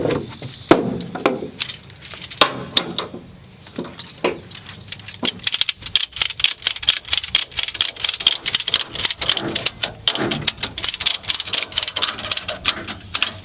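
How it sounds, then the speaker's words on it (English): A ratchet tie-down strap is cranked tight on a vehicle in a close, dry series of clicks, first in sparse bursts and then in quick, steady repeated ratcheting, with a few knocks between them. "Now we're going to tighten the strap."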